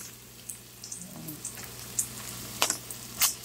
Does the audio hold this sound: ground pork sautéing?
yes